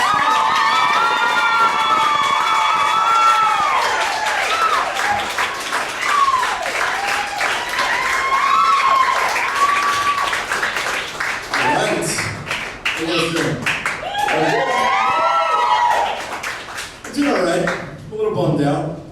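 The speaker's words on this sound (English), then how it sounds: "Start clapping up for the very hilarious Peter." Comedy club audience at the Laugh Lounge clapping and cheering as comedian Peter Ostella is brought on: loud, sustained applause under a speaking voice, easing off toward the end.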